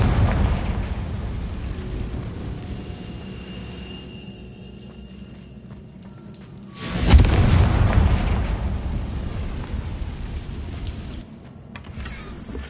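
A Confringo spell bursts in Hogwarts Legacy with a sudden booming blast that swells and rumbles away slowly over a busy background of game noise.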